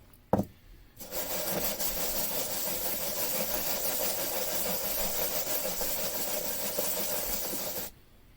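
Sandpaper rubbed by hand along the steel slide of a 1911 pistol gives a steady, close, gritty rasp. It runs continuously for about seven seconds and then stops abruptly, with no talking.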